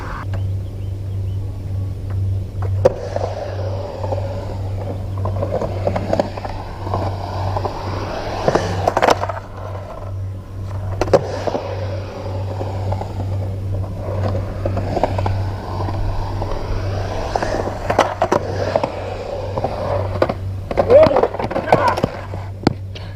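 Skateboard wheels rolling and grinding around a bowl during attempts at a stand-up 50/50 grind on the coping, a steady rumble with scrapes and clacks, with a person talking over it.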